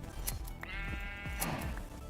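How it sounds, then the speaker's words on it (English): Sheep in the Minecraft video game bleat in a couple of short, nasal calls over a steady background hum, with no talking. "Okay, let's shear these sheep."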